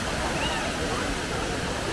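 A waterfall in Infanta, Quezon roars as a steady, loud broadband rush of falling water, constant and unbroken throughout.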